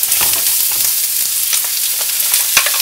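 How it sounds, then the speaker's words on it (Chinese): Cured Chinese sausage, dried shrimp and shredded dried scallop crackle loudly as they are stir-fried in a wok, a dense close-up sizzle with a few sharp spatula scrapes. "我哋爆香佢先"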